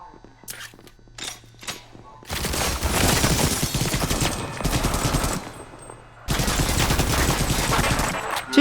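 Two long bursts of rapid machine gun fire in the video game ADACA, dense and loud, separated by a short pause, with a voice talking during the quieter opening.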